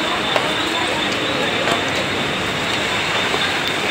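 Train at Nerul railway station, a loud steady rumble of rolling wheels and carriages with faint clicks and high squeal, a voice speaking over it.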